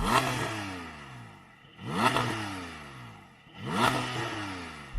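A Porsche GT4 engine revs up three times to about 5,000 RPM, each throttle blip climbing to a high whine and then falling away, loud and close with no talking.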